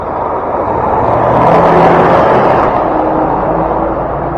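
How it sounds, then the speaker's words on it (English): A truck passes noisily along a rural road in Ibaraki, Japan. It is heard as a loud, steady broadband roar that swells toward the middle and then eases slightly, with no talking. "the truck was making a lot of noise"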